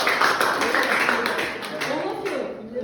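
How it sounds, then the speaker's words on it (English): Classmates in a grade 10 classroom break into steady group applause, a dense patter of many hands clapping close by that continues throughout and eases slightly near the end. "Then let's clap our hands."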